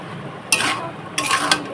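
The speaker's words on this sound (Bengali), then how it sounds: "ভালোভাবে কিন্তু তরকারিটা এখন নাড়াচাড়া করে কষিয়ে নেব" Pumpkin curry with spices is stirred and fried in a pan: two short scraping strokes of a spoon against the pan rise over a faint background sizzle.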